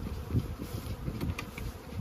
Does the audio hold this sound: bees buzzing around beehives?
yes